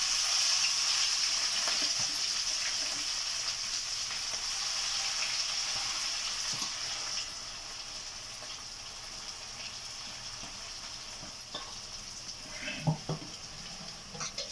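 Watermelon snack pieces fry in hot oil with a soft, steady sizzle that gradually fades, joined near the end by a few light clinks and scrapes of utensils.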